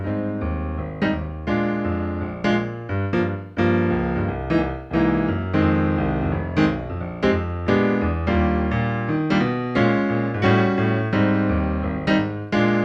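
Jazz piano comps in rhythmic chord stabs over a steady walking bass line, lively and close, repeating in a swinging pattern.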